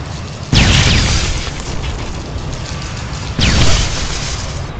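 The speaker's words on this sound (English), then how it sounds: "they explode themselves" Enemies blowing themselves up in Terminator Resistance: two loud, close explosions, each a sudden booming burst that rolls into a long, rumbling roar, with the second blast coming about three seconds after the first.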